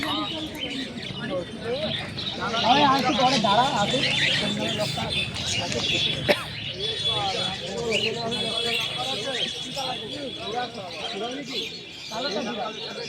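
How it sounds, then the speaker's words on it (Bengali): Caged pigeons at a busy bird market coo and chirp steadily from many birds at close range, mixed with crowd noise and people talking throughout. "এখানে খাঁচায় জোড়া জোড়া আটকানো থাকে পায়রা।"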